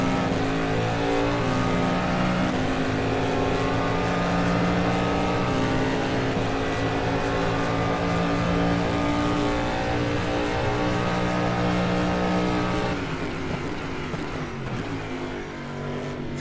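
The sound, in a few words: DPI race cars driving down the back straight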